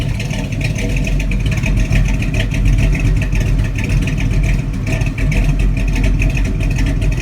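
A 1972 Chevy C10 short bed with a 454 V8 rumbles loudly and steadily, its deep throbbing exhaust carrying a lopey, uneven pulse close to the microphone with no voices.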